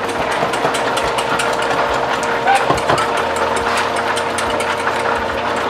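Garlic parmesan wing sauce whisked in a bowl, rapid rhythmic clicking strokes running steadily throughout over a constant background hum, loud and close.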